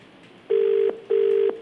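An unanswered phone call to a politician's number in India gives two loud, identical electronic ringback tones, each lasting about half a second with a short gap, heard alone without talk.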